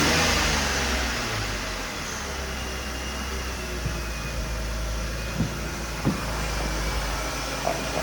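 A BMW E46 drift car engine, its fuel system freshly emptied and refilled, runs with a steady loud rumble after starting, with a few faint knocks and clicks near the end.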